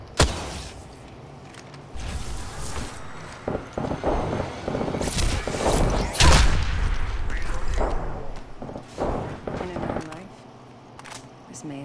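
Bursts of gunfire in the Apex Legends battle royale game crack out in rapid, uneven volleys, loud and close, with heavy booming hits mixed among sharper shots, while voices talk over the fighting.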